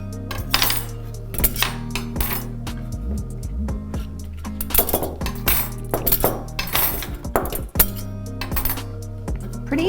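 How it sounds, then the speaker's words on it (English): Metal skewers from a Pampered Chef Deluxe Air Fryer skewer set clink and clatter as a fork pushes cooked food off them, giving a busy run of bright metallic taps and scrapes up close over a steady low hum. "I take a fork and I will run it right down to push everything off"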